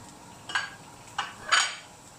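Leek, spring onion and ginger tipped into a hot pan land as three short, close clatters and scrapes against the metal, over a quiet background.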